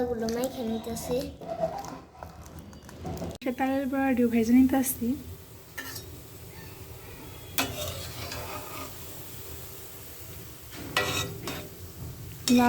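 Food fries in a pan in a home kitchen, a soft ongoing sizzle with stirring scrapes and clicks, partly under a person talking in the first half.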